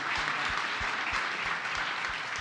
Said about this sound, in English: Round of applause for Travis.